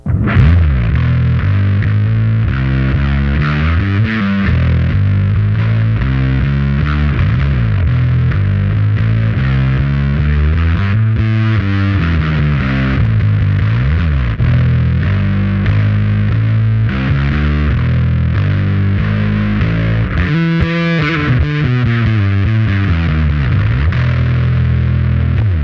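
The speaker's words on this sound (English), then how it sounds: "just the tone of the bass, even though you have like heavy distortion on." A Toby electric bass, loud and heavily distorted, plays a continuous riff with sustained notes and shifting pitches, thick and buzzing throughout.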